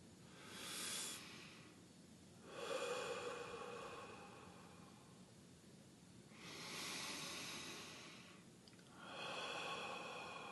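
Slow, deep breaths during guided meditation, four long airy inhales and exhales in an even rhythm, close and soft with no talking.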